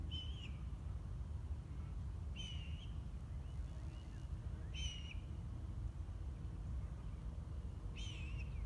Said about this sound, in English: These sound like red-tailed hawks doing courtship calls.